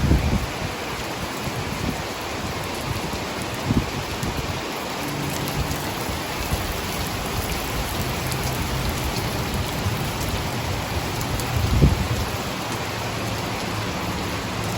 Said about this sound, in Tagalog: Umuulan sa Bangkok, Thailand. Ang lakas.